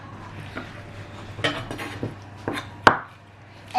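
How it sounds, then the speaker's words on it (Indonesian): Spring onions being chopped on a board in a home kitchen, with a few scattered knife taps and one sharper knock, close and sparse against a quiet hum. "sekarang kita potong-potong daun bawang"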